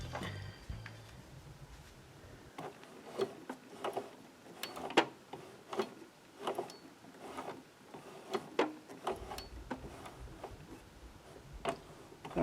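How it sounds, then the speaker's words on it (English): A serger sewing machine turned slowly by hand to check its cutting knives, giving a quiet series of light mechanical ticks and clicks in an uneven rhythm, close up with no talking. "you're going to want to hand crank your machine and listen, just to make sure that your knives aren't rubbing together"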